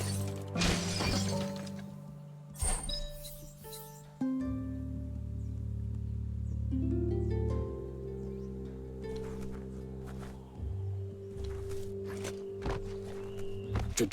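In Biomutant, a box is smashed with a few sharp breaking cracks amid ambient game music and drones, the impacts standing out clearly against the background.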